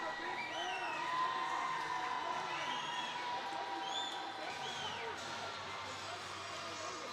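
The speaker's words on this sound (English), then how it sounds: "Gets the crowd going here at Big Boy Arena" Hockey crowd at Big Boy Arena roaring after a goal, a broad sustained wash of cheering with whistles and shouts, heard from within the stands beneath steady commentary.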